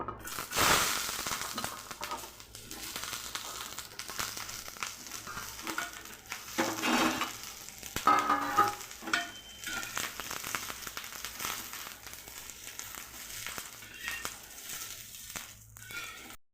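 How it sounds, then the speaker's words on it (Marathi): Green chillies roasting in a little oil in a pan, a continuous close crackling sizzle with irregular pops and scraping that holds steady throughout. "थोडंसं तेल टाकूया मिरची भाजायला। मिरची चांगली भाजून घेऊया।"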